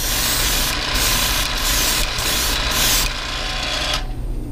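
Airbrush spraying paint in a home workshop, a steady hissing spray broken into several short bursts with brief pauses, then cut off near the end.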